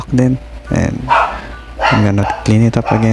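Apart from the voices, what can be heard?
dog barking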